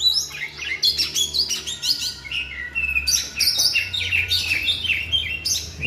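An oriental magpie-robin sings close by, a run of bright, varied whistles and chirps that rises and pauses in quick phrases, heard alone with a low background hum.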